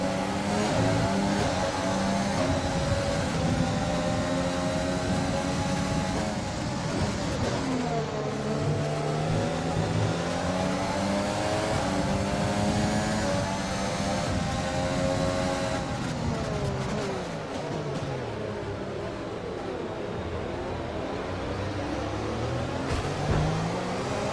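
A Formula 1 car engine in the F1 2020 racing game drones continuously at high revs, a loud, steady whine with rising and falling pitch through shifts and corners, with no speech over it.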